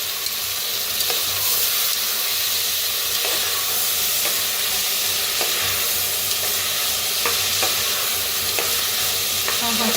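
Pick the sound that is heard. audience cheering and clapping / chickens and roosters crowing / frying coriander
frying coriander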